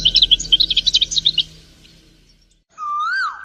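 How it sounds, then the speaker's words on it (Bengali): A tailorbird calls loudly in a story sound effect: a rapid, shrill burst of chirps, a short silence, then a clear rising and falling whistled cry. "ঠিক তখনই টুনি পাখি খুব জোরে চিৎকার করে ওঠে।"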